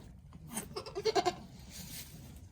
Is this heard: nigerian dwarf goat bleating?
yes